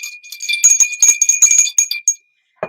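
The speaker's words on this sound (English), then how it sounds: "I need to ring the bell." A hand bell rings in a quick run of bright, jingling strikes with a sustained high ring, close and loud, stopping abruptly near the end.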